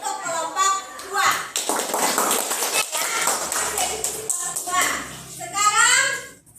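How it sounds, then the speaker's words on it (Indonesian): Children in a classroom clap and tap for a group, a scattered, busy patter of hands mixed with kids' chatter and voices throughout. "Kita kasih aplaus untuk kelompok 2"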